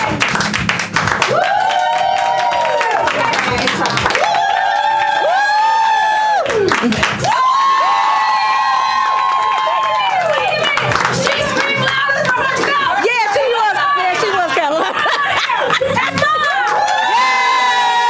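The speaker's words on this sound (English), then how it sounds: "I want you to actually pick them and scream because they did a good job on the camera" A crowd at a derby-style dog show cheers and screams loudly and continuously, with high sustained shrieks, whoops and some clapping rising and falling throughout.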